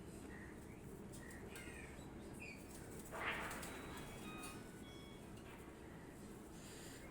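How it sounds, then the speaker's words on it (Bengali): Two pigeons released by hand, giving a brief burst of wing flapping near the middle, set against a steady low background hum with faint bird calls around it. "তো দুইটা কবুতর আমি ছেড়ে দেখাচ্ছি"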